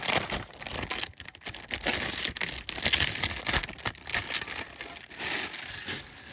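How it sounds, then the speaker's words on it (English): Plastic wrap is peeled and crumpled off the dust cover of a Doors RSD3 mini-turntable, a close, steady stream of crinkling and rustling with no talk. "we actually have this wrapped in plastic as well, which I'll get undone for you"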